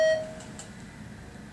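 A single short, clear electronic beep sounds from a new ThyssenKrupp service elevator rated for 5,000 pounds, then fades into quiet room hum.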